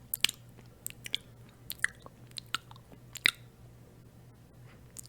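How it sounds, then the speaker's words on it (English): Someone chewing taffy candy close up, with irregular soft sticky smacks and a few sharper clicks spread across a quiet background, no talking. "Just let me finish this taffy."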